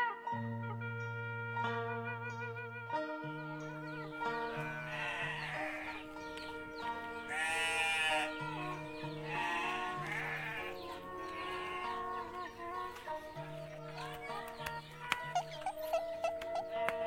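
Sheep bleating, with repeated wavering cries layered over a steady tonal background, the calls fairly close and continuing throughout.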